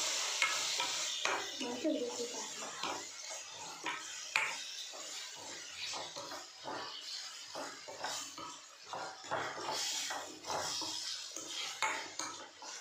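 Tomato pieces stirred in a frying pan, a utensil scraping and clinking against the metal in steady repeated strokes over a soft sizzle, close and alone with no talking.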